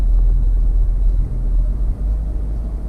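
Slow-moving road traffic makes a steady, close low rumble with a couple of brief dips, and no other sounds stand out.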